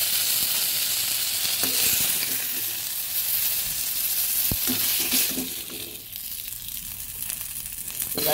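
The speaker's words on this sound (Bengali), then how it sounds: "মাছের মাথাগুলো উল্টে পাল্টে আমি ভেজে নিয়েছি," Catla fish heads frying in oil in a wok, a loud close sizzle with stirring and turning scrapes, easing slightly toward the end.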